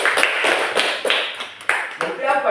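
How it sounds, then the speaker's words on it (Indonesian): A classroom of students bursts into short applause, a loose cluster of claps that rises and falls over a few seconds while voices carry on underneath. "tepuk tangan untuk kita semua"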